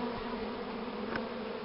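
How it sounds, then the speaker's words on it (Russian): Honeybees circling a hive make a dense, continuous buzzing hum, moderately close and steady from start to finish, with no voices. "Ну и пчелы летные поналетали."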